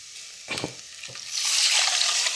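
Tomato extract poured into a hot rasam tempering, two brief splashes followed by a loud rising sizzle that fills the pan, close and without talk.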